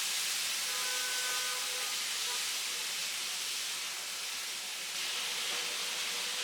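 Thinly sliced, finely cubed potatoes and carrots fry in a pan with a steady, dense hiss that holds evenly throughout, with no voices.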